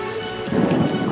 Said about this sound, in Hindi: अचानक तेज बारिश शुरू हो गई।